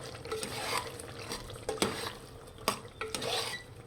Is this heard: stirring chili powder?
yes